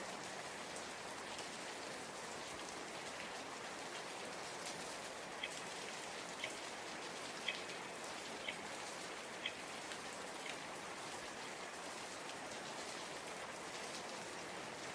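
Steady rain falls evenly on a surface, a constant dense hiss with a few faint drips popping out here and there, and no voices at all.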